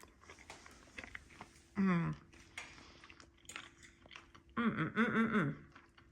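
Someone eating slow cooker maple mustard chicken, with light cutlery clinks and quiet chewing scattered throughout, interrupted by two brief voiced murmurs or sounds of enjoyment.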